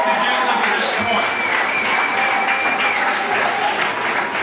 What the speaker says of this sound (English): give yourselves a rousing round of applause